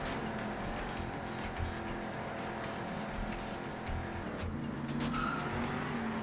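Monster truck racing in the Monster Jam Steel Titans video game: a steady droning engine with layered whining tones and tire squeal, sustained throughout at even loudness, with a higher screech rising near the end.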